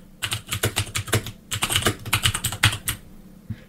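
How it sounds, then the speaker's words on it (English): Keys clatter on a Commodore VIC-20 keyboard, loud and close, in two quick bursts of rapid typing separated by a brief pause, with a single stray keystroke near the end and no one talking. "So if I start typing here,"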